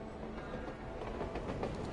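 A train rolls along in the video game Gravity Rush, giving a steady, fairly quiet mechanical rumble and rattle that continues evenly with no voices.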